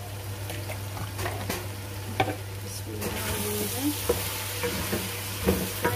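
Cumin seeds sizzling in hot oil while cooking keema aloo, a crackling fry with repeated spoon scrapes and sharp clinks against the pan, a steady low hum underneath.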